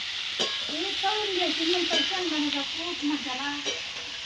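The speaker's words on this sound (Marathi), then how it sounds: "मिरची आत्याने तेलात तळायला घातली" Green chillies frying in hot oil over a wood-fired clay stove give a steady, close sizzling hiss that runs the whole time, with occasional stirring and faint tonal sounds over it.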